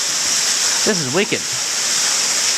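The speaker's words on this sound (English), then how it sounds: "I don't think I've ever seen a waterfall that's got such a defined crevasse like this" A waterfall pouring through a narrow rock crevasse in the bush gives a steady, loud hiss of rushing water, with a man's brief spoken remark briefly rising over it.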